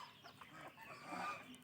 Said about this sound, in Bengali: আর ওই পাশে কিছু বাচ্চাগুলো আছে মুরগি